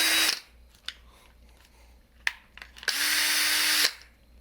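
Porter Cable 20V cordless drill running on a refurbished battery pack, giving short whirring bursts of the motor spinning up and stopping, then one longer steady high whine near the end, close and loud with clicks between runs.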